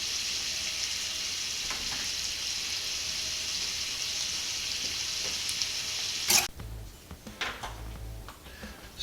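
Plantains sizzle and fry in a pan with a loud, steady hiss that ends abruptly in a clatter, followed by softer scattered bumps and crackles.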